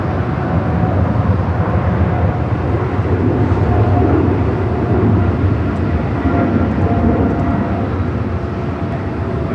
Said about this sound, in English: a cargo 777 freighter taking off there on the north side